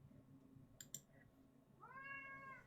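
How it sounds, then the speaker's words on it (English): A pet cat meows in a drawn-out, rising and falling call near the end, after a couple of short clicks, heard close up at low level over a quiet room. "Do you hear him meowing?"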